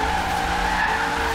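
Tires skid and squeal in a sustained, steady screech during a drift in Forza Horizon 3, with a car driven through a Logitech G920 wheel, loud and close with no pauses.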